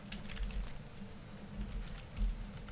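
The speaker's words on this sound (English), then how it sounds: "Oh, acid rain." Acid rain falls in a video game as a soft, steady patter of drops with a low rumble beneath, fairly faint, with no talking.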